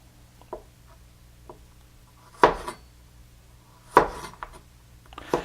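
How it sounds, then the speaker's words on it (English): A knife roughly chops garlic on a cutting board for paleo pork carnitas, with a few sharp, spaced knocks and lighter taps in between, close and clear with no voice. "rough chop of the garlic is fine in this case"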